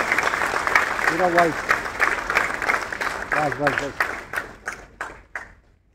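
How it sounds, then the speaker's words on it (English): A large crowd applauds at a ceremony celebrating Srinagar's recognition as a World Craft City, with sustained clapping, voices calling out over it, and the applause thinning to scattered claps before fading out. "A huge round of applause."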